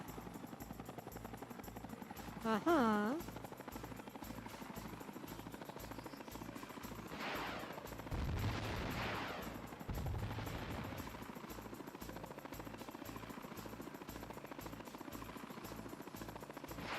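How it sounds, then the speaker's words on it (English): Helicopter rotor and engine drone in a Bush-themed video game, steady throughout with a short chirping sweep early and two louder bursts in the middle; a brief vocal murmur is heard. "jump to give the helicopter some lift"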